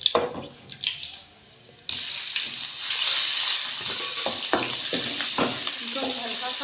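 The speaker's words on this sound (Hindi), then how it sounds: "इनको हल्का सा फ्राई करना है तब तक लहसुन की खुशबू आना शुरू हो जाए।" Curry leaves and ginger-garlic paste drop into hot oil and burst into a loud, steady hiss after a few kitchen clatters, with occasional stirring scrapes over the sizzle.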